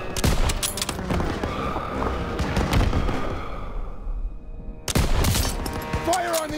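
Machine gun and battlefield gunfire in Call of Duty WWII, dense loud bursts and booms with shouted voices over them, cutting briefly quieter before erupting again.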